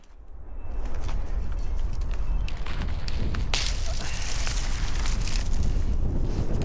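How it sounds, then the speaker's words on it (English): Wind blowing outdoors in snow, buffeting the microphone as a loud, steady rumbling roar with gusty surges. "Woo, the wind."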